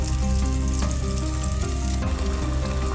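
Mutton and potato curry (aloo gosht) being sautéed in a pan, with a dense, steady sizzle that runs loud and close throughout and is broken by brief stirring shifts.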